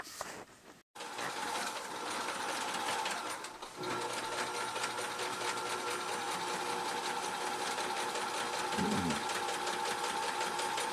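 A sewing machine runs in a fast, steady mechanical rattle while stitching a ruffle onto a baby quilt, after a brief pause near the start.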